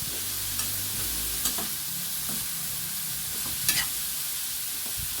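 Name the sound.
stirring banana blossom adobo in a pan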